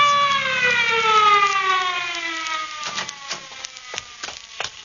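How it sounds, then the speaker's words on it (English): Ambulance siren in a radio drama, a loud descending wail that winds down while knocks and bumping effects take over afterward. "That's the ambulance."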